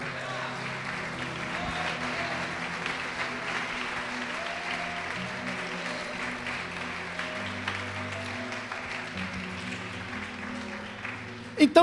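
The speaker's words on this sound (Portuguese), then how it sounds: "Pode aplaudir o Senhor." A church congregation applauds during a Portuguese sermon, a sustained even wash of clapping over faint background tones, loud and continuous throughout, ending with a couple of sharper knocks.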